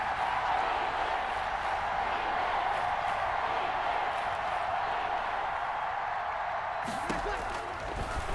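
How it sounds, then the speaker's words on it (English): A stadium crowd in a Madden NFL 21 American football game roars in a steady broad wash of cheering throughout, under a commentator's voice, with a sharp thump near the end. "Crowd getting in it a bit already."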